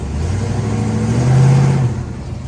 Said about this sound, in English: Now if I hit the gas, the rear tires are gonna start spinning.